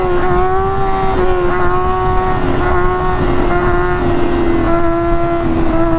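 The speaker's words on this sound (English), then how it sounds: "listen to this engine right here." A motorcycle engine holds a steady, loud drone at constant revs while the rider chases a wheelie, with a strong continuous hum and slight wavering overtones throughout and no voices.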